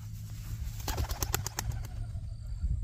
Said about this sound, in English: watch the flushing of more than one bird